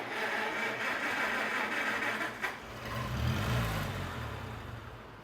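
A 1952 Farmall Cub tractor engine runs unevenly, wanting choke, with a steady low rumble that swells slightly midway before settling, heard close and fairly loud throughout.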